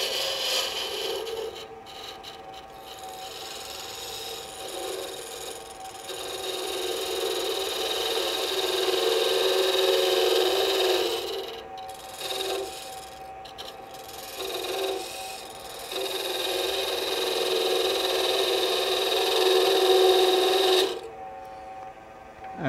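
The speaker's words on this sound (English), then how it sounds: "I'm starting the tool right high with the bevel rubbing and then bringing it down so it's contacting the timber." A woodturning lathe tool cuts into spinning timber for a Christmas candle holder, giving a continuous rubbing, rasping scrape that rises and falls in short passes with brief pauses.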